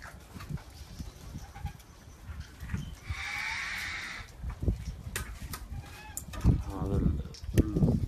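A large flock of caged African grey parrots calls nearby, with loud overlapping squawks, whistles and harsh cries amid a constant busy chatter.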